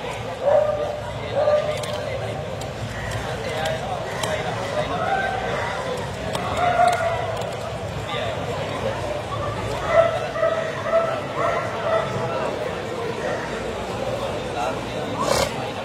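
Dogs at a large dog show in Sri Lanka give scattered barks and yips amid a busy, noisy crowd, with people talking throughout.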